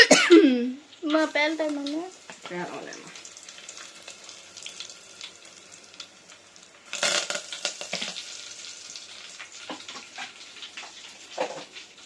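Mustard seeds, cumin and fenugreek tempering in hot oil give a soft crackling sizzle, louder near the start and again around the middle, while someone talks over it at first.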